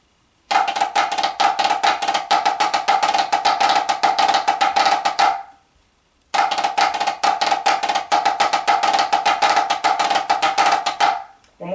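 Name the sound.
drum playing flam drags into another rudiment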